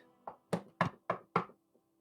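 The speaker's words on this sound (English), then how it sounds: "knock on the door" Five sharp knocks on a door in an even rhythm, close and fairly quiet, followed by a faint sixth tap.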